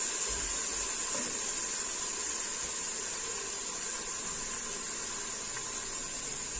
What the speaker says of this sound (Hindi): मसाला हमारा बड़ा ज़बरदस्त से भून रहा है